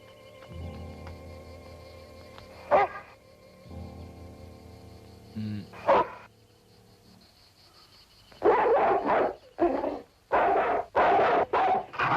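A dog in the 1961 horror film Werewolf in a Girl's Dormitory barks several times in quick, loud bursts near the end, after a quiet stretch of sustained score tones broken by two sharp hits.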